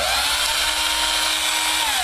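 A cordless 9V drill with a failed battery pack, rewired to run from mains power, whirs steadily with a high motor whine, winding down at the end, alone and close.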